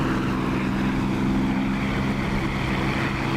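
A WWII propeller aircraft engine in the DCS flight simulator runs at steady cruise boost, a loud continuous droning hum with a strong low tone and airy rush that holds even, with no talking.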